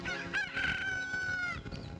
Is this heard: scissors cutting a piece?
no